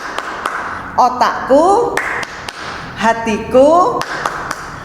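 Children clap a rhythmic thank-you clap in a church kids' service: several sharp claps, some spaced and some in quick bursts, mixed with loud sung or chanted voices.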